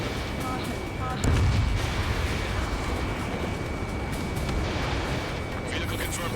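Dense gunfire and artillery rumble from an enemy attack in a video game battle, a continuous loud wash of shots and booms with a steady tone running through it.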